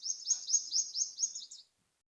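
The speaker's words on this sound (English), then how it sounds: "it was this blue chrome ish bird." A small blue-purple bird chirping outdoors, a quick series of about six high bright chirps in an even rhythm, clear and close, then silence.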